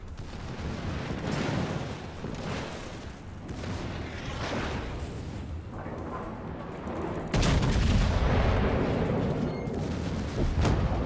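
Warship guns firing high-explosive shells in World of Warships, a dense run of booming salvos and rumbling blasts, with a heavier, louder barrage near the end.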